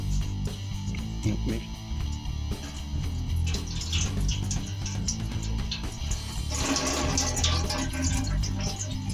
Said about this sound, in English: once I open up the radiator cap, it should start flowing.